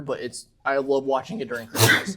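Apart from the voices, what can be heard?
sneeze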